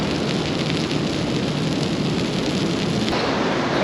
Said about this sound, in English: It's hailing pretty bad.